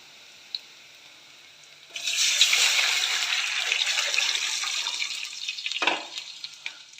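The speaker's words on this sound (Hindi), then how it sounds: "इसके अंदर हम पानी डाल देंगे।" Water poured into a pan of lightly browned onions for moong dal khichdi, a sudden loud rushing splash and sizzle lasting several seconds before tapering off, with no talking.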